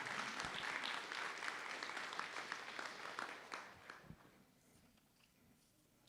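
Applause for FFA students and staff at a school board of education meeting, a sustained round of clapping from the audience that fades out over several seconds.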